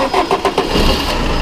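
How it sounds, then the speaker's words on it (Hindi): A car fitted with a flamethrower exhaust kit cranks with several quick starter churns, then catches and settles into a steady, close idle, loud and alone. "ये देखो ये गाड़ी चालू हो गई"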